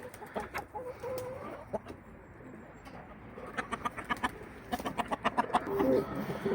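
A Bresse crossed with Arco clucks in a series of short, close calls, louder toward the end, with other poultry cooing and clucking around it.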